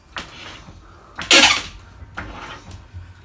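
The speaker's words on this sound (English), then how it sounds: "So all I'm doing is lifting up my wood." Wooden floorboards being pried up inside a bus during a home conversion give a few scattered knocks and creaks, with one sharper, louder crack in the middle over a quiet background.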